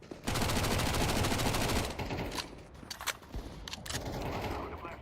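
Rapid automatic fire from a MAC submachine gun in a video game: a loud, dense stream of shots for about two seconds, followed by scattered further bursts and game action.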